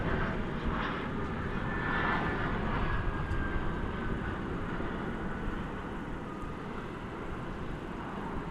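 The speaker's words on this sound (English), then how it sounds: "American Flight 2406 from Minneapolis-St. Paul, a 737-800" American Boeing 737-800 airliner from Minneapolis-St. Paul at DFW Airport in the evening, a steady broad engine roar that holds level and fades slightly toward the end, with no voices.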